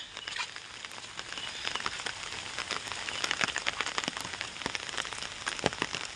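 Rain patters steadily on surfaces outdoors, a dense, fairly soft hiss scattered with sharper individual drops, with no one speaking.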